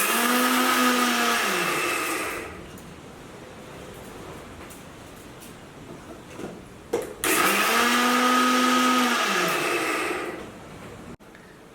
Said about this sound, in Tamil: இந்த மிக்சியில் நல்லா பவுடர் பண்ணிக்கலாம்